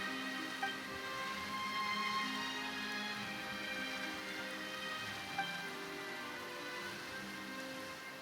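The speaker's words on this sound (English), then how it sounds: "Why is it raining all of a sudden?" Rain patters steadily in Genshin Impact, a soft, even hiss of drops falling on surfaces, with faint tonal game music underneath.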